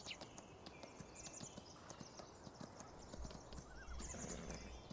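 A horse in the Farming Simulator 19 video game lets out a whinny over a steady clip-clop of hooves, with game ambience running beneath it, heard alone and fairly quiet.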